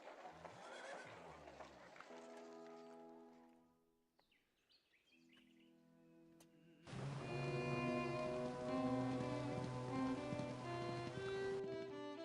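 Horses in Civilization IV: Colonization give short whinnies mixed with hoof clatter and bright, tonal game music, with a quiet pause partway through before the sound swells again.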